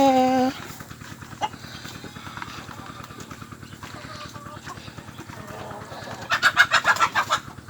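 Farm chickens clucking and squabbling as they scramble over scattered feed, a steady busy chatter of many birds close by, with a louder burst of excited squawks near the end.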